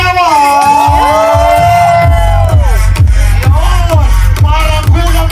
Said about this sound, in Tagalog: simulan natin palakpakan na may hiyawan